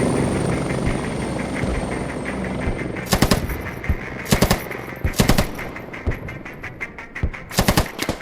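Helicopter rotor noise in the military shooter game Squad, a steady roar under rapid bursts of machine-gun fire that grow denser in the second half.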